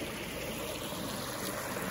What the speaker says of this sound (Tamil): இங்கேயும் தண்ணி கொஞ்சம் ஓடுது, இங்கே குளிப்போம்.